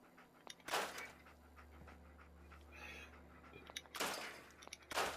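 A dog in the Fallout 4 video game panting, with a few short breathy bursts separated by pauses over a low, steady game ambience, faint and unaccompanied by talk.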